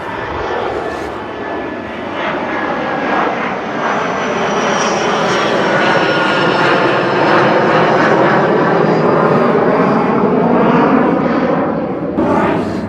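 A jet roars continuously as it takes off from a private airfield, a loud, sustained engine rush with a rising whine that holds steady and close throughout.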